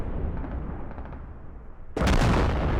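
Artillery fire from the video game Squad lands near a bridge, a rumbling low bed of distant blasts that breaks into one sudden loud, broadband impact near the end.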